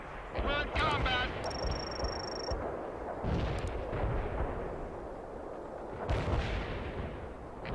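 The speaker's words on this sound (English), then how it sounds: "They're firing at us." Enemy gunfire and artillery in the World in Conflict war game: dense, continuous rumbling barrage with repeated sharp shots and heavier booms, a bright electronic tone briefly over it and a voice speaking amid the combat noise.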